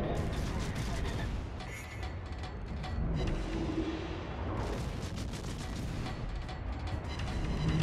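Naval gunfire booms and thuds in a World of Warships battle as shells strike a ship, with repeated blasts over a constant rumbling din and a voice talking throughout.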